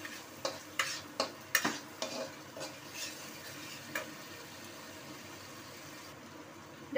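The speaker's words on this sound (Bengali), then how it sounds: "আর তার মধ্যে এটাকে একটু নাড়িয়ে নিই।" A curry of potato, pointed gourd and soybean is stirred in a pan, with a handful of distinct scraping strokes near the start over a faint low sizzle, then quieter shuffling; no voices.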